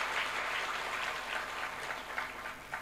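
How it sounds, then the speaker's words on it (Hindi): An audience claps together in a hall, a dense steady patter of many hands lasting throughout, moderately loud with no voices over it. "जब मैंने कहा दोबारा तो आपने ताली अच्छी बजाई"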